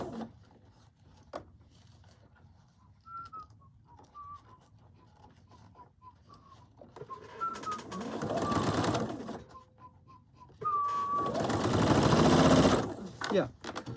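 Sewing machine stitching a men's jacket sleeve, faint at first with birds chirping nearby, then two louder bursts of rapid mechanical whirring as the needle runs, with a person speaking at times.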